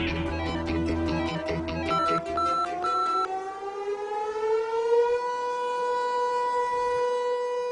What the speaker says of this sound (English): This siren tests the emergency alert system in the town surrounding the Vermont Yankee nuclear power plant.